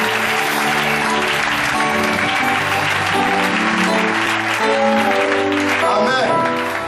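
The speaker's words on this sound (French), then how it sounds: "je veux qu'on donne des acclamations à Jésus" A church congregation applauds and cheers for Jesus, sustained crowd clapping layered with voices and what sounds like music or singing, loud and continuous throughout.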